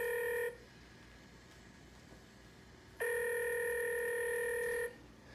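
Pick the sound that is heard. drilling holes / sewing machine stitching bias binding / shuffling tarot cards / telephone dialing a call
telephone dialing a call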